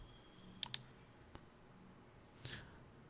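Computer mouse clicks on a Windows 11 PC in a quiet room: a quick double click early on, then a single soft click and a fainter tap later, over a low background hum.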